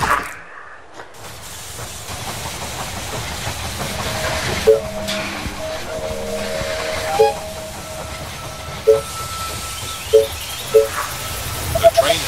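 Train arriving at a station in the video game They Are Billions, with a low rumbling hiss and several short tonal chimes or whistles at intervals, game-style ambience and a voice in the background.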